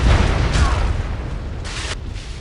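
Artillery bombardment in the Civilization 4 strategy game: a dense, loud, continuous roar of booming blasts, with bright bursts near 0.6 and 1.7 seconds and no talk.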